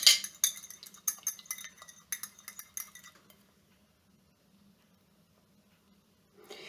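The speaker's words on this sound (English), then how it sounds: "Just stir it up a little bit here." A utensil stirs banana bread batter in a bowl, quick clinking scrapes against the side for about three seconds, then near silence before a faint rustle.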